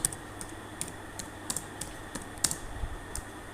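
Fingers type on a computer keyboard in a quiet room, giving irregular, close, soft key clicks, some in quick pairs, with no talking.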